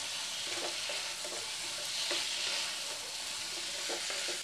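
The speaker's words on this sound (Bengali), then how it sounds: "এবার আমি সোয়াবিনগুলো দিয়ে দেব, মশলার সঙ্গে ভালো করে কষিয়ে নেব।" Soybean chunks fry and get stirred with spices in a pan for a Bengali aloo soyabean curry, giving a steady close sizzle with soft scraping stir strokes recurring throughout.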